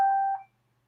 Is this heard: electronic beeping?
yes